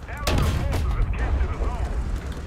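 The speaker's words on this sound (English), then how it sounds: "I have to watch my insane shooting here" Tank cannon fire from the War Thunder video game: heavy, booming shots with a rumbling low tail, loud and close, overlapped by a player talking.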